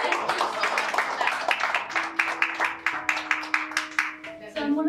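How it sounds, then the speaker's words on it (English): An audience at a spoken word poetry event claps, a rhythmic run of close, crisp hand claps that fades near the end while a voice speaks over it. "the audience deserves a round of applause"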